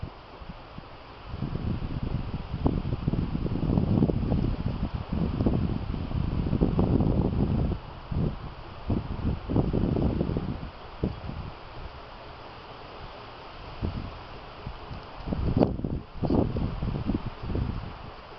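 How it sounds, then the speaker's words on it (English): Gusty wind buffets a microphone outdoors beside a Lang offset smoker cooking beef back ribs, rough low rumbling bursts that rise and fall irregularly with calmer stretches between. "Wind's kind of playing havoc with me."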